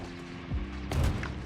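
Turret gunfire in the space game Star Citizen, a heavy low boom followed by a burst of rumbling impacts over a steady droning background.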